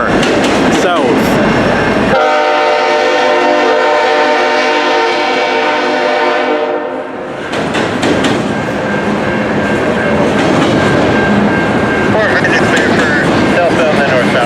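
A CN freight train led by locomotive 3064 passes at a New Westminster crossing, a loud sustained horn blast over the rumble and clatter of rolling cars, with a voice talking briefly at the start.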